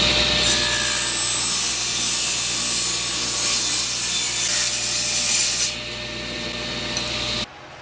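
Oak pieces are sawn to length with a steady, loud rasping cut that runs continuously for several seconds and then eases off before stopping abruptly.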